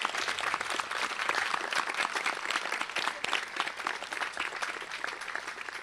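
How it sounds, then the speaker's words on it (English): A graduation audience applauds the teachers at a high school ceremony, with sustained, dense clapping from a large crowd that stays even and full from start to finish. "I'd like to ask for an applause for the teachers who've come tonight to share in this wonderful moment with you."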